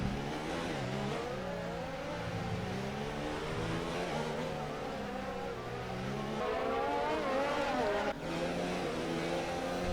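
Formula 1 race car engine from the F1 2020 video game echoing through the Monaco tunnel, a loud sustained high-pitched whine that rises and falls steadily with gear changes throughout.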